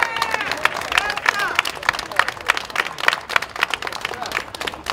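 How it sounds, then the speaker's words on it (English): A crowd claps and cheers at a press gathering after a court sentencing, dense and lively applause mixed with voices and shouts, fairly close and continuous throughout. "Give him a big round of applause."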